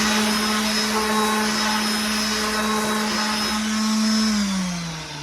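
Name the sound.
power sander sanding a repaired plastic part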